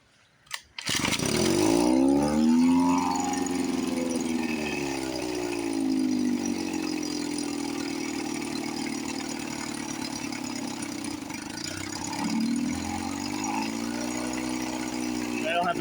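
A 1954 Johnson 5.5 HP outboard motor starts and runs, a close buzzing two-stroke drone whose pitch wavers up and down as the throttle shifts, with a person talking over it.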